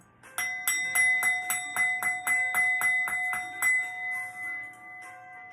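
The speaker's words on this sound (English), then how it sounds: "Ring the bell." A bright bell strikes about a dozen times in a steady, quick rhythm, each ring sustaining and overlapping before a final shimmering decay.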